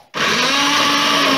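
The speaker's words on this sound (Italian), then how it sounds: "Andiamo a frullare." After a brief quiet moment a mini immersion blender switches on and whirs loudly and steadily while blending cherry jam, a close, high motor drone that continues alone.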